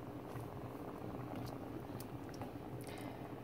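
Rice and peas at a high boil in a pot, a steady bubbling and simmering texture heard alone and fairly quiet throughout.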